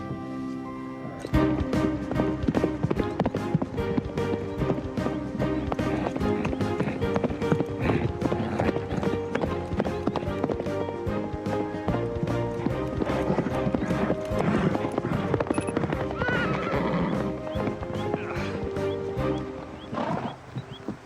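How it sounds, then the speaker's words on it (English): Horse hooves clip-clop in a steady rapid rhythm throughout, loud and close, with a neigh, over a dense musical background, during a riding lesson gallop. "It was still a very good gallop."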